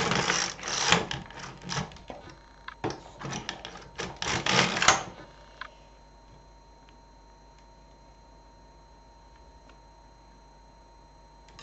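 A knitting machine carriage makes two passes, a loud rattling, clicking mechanical run for about five seconds, followed by quiet room hum.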